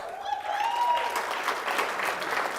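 Cheering and applause for a volleyball coach at an athletics hall of fame ceremony, a burst of steady clapping from an indoor crowd with a rising whoop at the start.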